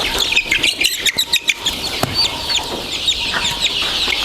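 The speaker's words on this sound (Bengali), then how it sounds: "এখানে রয়েছে আপনার এক হাজার পিস দেশি মুরগি বাচ্চা রয়েছে আর এখানে ফাউমি মুরগি রয়েছে পাঁচশো পিস" Desi and Fayoumi chickens and chicks at a hatchery farm cluck and chirp in a busy, overlapping chorus nearby, with sharp calls standing out from the steady flock noise.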